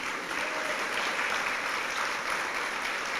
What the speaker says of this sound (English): How about a round of applause for Agnes?